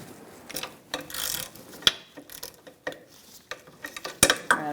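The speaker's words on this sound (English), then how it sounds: "it threads into this welded nut. All right, I'm going to snug it up" Bolt being tightened into a welded nut at the rear wheel hub of a 2002-2006 Honda CR-V, heard as a run of sharp metallic clicks and ratcheting taps, close and irregular, with no talking.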